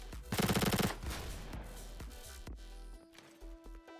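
Rapid bursts of SMG fire ring out in a video game, one dense loud volley followed by scattered single shots and footsteps, then quieter in-game mechanical sounds.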